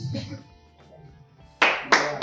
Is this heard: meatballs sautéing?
no